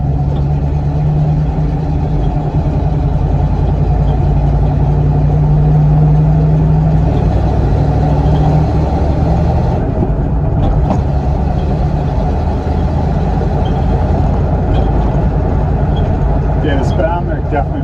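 A truck cruises along with a loud, steady low engine drone and road rumble throughout, and a voice talks over it.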